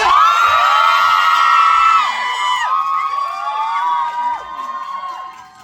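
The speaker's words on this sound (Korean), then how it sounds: "이럴 때 함성 한번 크게 질러주세요" A cinema audience at CGV Yongsan cheers and whoops loudly during a stage greeting for a tvN drama. The high-pitched shouts are strongest for the first two seconds, then scattered yells trail off and fade.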